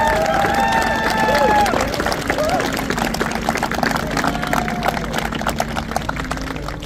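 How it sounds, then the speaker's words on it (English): An outdoor crowd at a Special Olympics opening parade at West Point applauds honored guests, steady clapping and cheering spread across a wide field, moderately loud and continuous, with a voice speaking over the start. "Let's give them a round of applause."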